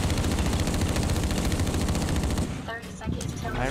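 A minigun in the Blacklight Retribution video game fires a dense, continuous rattling stream of shots for over two seconds, then stops abruptly as players talk.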